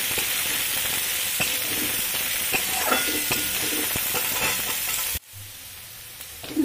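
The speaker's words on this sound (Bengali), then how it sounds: "দেখুন পেঁয়াজটা হালকা করে ভেজে নিয়েছি" Minced onion frying in oil in a wok makes a close, continuous sizzle with scattered stirring clicks for about five seconds, then cuts off abruptly into near quiet.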